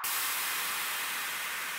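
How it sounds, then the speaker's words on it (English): A steady wash of bright white noise forms a downlifter effect in a progressive house break, hissing loudly from the start and thinning slightly as it falls over nearly two seconds, with no voices. "then we have this white noise type of downlifter"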